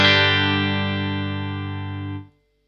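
A single sustained electric guitar chord with light overdrive from a Fender Stratocaster through an Arc Effects Soothsayer pedal in low-gain mode into a Fender Supersonic 22 clean channel rings out alone, decaying slowly before being cut off.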